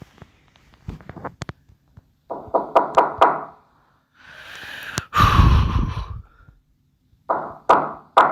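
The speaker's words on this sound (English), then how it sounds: "Now you're knocking again." Sharp knocks during a scary compilation, a few isolated raps early on and one louder thump midway, surrounded by breathy gasps and vocal bursts.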